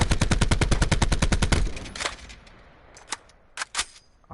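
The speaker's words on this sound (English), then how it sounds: "So if I were to shoot this out" Rapid automatic gunfire from a weapon in the video game Blackout rattles off in a fast, loud burst for about a second and a half, then cuts off, followed by a few scattered clicks and thuds.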